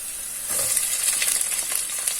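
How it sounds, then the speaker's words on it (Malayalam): Chopped ginger, garlic and green chili sautéing in a hot pan: a steady, bright sizzle, close and fairly loud, with faint stirring, no talk. "കുറച്ച് വെളുത്തുള്ളി വാട്ടിയെടുക്കാം. ഈ പച്ചമുളകും കൂടി ഇടാം."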